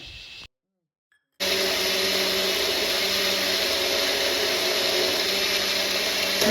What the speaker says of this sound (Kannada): ಈಗ ಅದನ್ನೆಲ್ಲದನ್ನು ಹಾಕ್ಕೊಂಡು ಕ್ಲೀನಾಗಿ ಗ್ರೈಂಡ್ ಮಾಡ್ಕೋಬೇಕಾಗತ್ತೆ